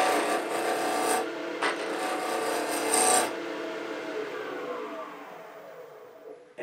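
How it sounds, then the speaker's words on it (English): A spindle roughing gouge cuts into spinning wood on a lathe, giving a close, continuous raspy shaving noise that pulses briefly, then fades to a softer whirr as the cut ends. "Hang the tool, ride the bevel, lift the handle that cuts, and go straight in."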